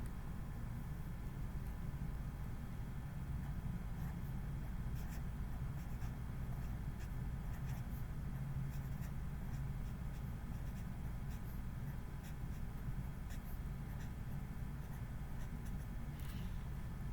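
A pen scratches steadily across paper while a best fit line is drawn on a scatter plot, a soft continuous scribbling over a constant low hum of background noise, with no talking.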